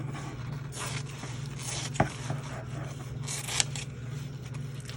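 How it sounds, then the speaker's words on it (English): Scissors trim the edge of a junk journal cover, giving soft close snips and papery scraping, with one sharp cut standing out near the middle. "So I may trim off just a little bit more back here."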